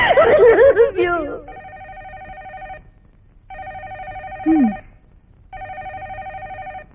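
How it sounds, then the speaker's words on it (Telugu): A telephone bell rings in three evenly spaced bursts separated by short silences. Voices talk before the first ring and briefly between rings, in a film scene. "ఏమిటండి, ఫోన్ మోగుతూనే ఉంది."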